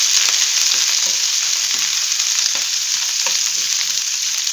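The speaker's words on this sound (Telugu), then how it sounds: "కొంచెం ఫ్రై అవుతుందండి దీన్ని" Coarsely pounded ginger-garlic paste frying in a pan for chicken haleem, giving a dense, loud, continuous sizzle with faint stirring taps scattered throughout, close and unbroken.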